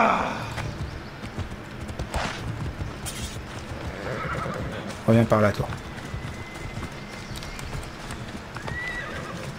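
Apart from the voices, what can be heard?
horse neighing and galloping, video game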